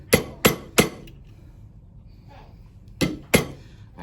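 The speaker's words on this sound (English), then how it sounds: "So I'm still going to be using the weighted hammer." Sharp metallic hammer blows from a weighted hammer on an annealed silver ring come close and loud: three quick strikes, a pause of about two seconds with faint handling noise, then two more strikes.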